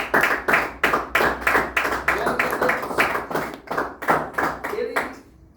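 A church congregation claps hands for Jesus in a strong steady beat, about a dozen loud unified claps at an even pace that fade out at the end, with voices faintly underneath.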